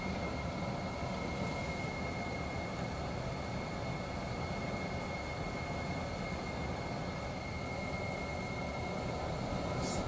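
Steady, loud engine roar of a light aircraft holding takeoff power on the runway, a constant broadband drone with a faint tonal whine running unbroken throughout.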